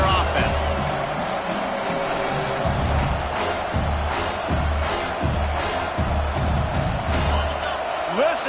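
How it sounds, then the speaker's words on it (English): A loud stadium crowd in the College Football 26 video game roars continuously, with muffled thumps and shouts mixed into the steady wall of noise. "Listen to this crowd just shaking the girders of this place, trying to help their defense."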